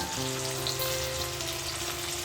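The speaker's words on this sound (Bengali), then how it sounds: "এগুলো একটু লাল লাল করে ভেজে নেব" Onion, tomato and garam masala fry in a pan with a steady, close sizzle that runs unbroken for the whole stretch, with no voices over it.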